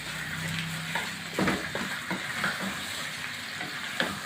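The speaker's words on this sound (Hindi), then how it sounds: "थोड़ा सा मैं इसको फ्राई करके इसको कवर करूँगी, ताकि सीरी में ऑयल और जो हमने खड़े मसाले डाले हैं इसकी खुशबू चली जाए।" A goat head fries in oil with whole spices, making a steady, moderately loud sizzle and crackle up close, with occasional soft knocks and scrapes of stirring and no voices.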